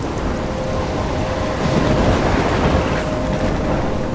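Heavy rain and a low rolling thunderstorm rumble fill the scene in the video game Life Is Strange, a loud, steady wash of downpour with a deep thunder swell in the middle and no talking.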